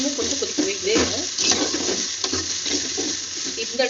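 Brinjal gravy simmers and sizzles in oil as a spoon stirs it, giving a steady close-up crackle broken by repeated scraping strokes against the pan.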